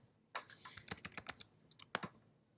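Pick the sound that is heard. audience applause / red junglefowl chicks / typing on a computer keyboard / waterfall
typing on a computer keyboard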